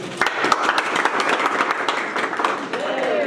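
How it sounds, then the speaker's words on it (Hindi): Applause from a crowd gathered at a Buddhist initiation ceremony in Chhattisgarh, a dense, steady patter of many hands clapping close by for several seconds, with voices mixed in underneath. "तालियां।"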